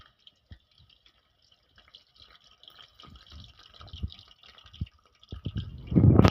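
Potato pieces for homemade french fries are dropped into hot oil in a kadai. After a few faint drips and small splashes, a loud, close sizzling burst swells and keeps rising at the end.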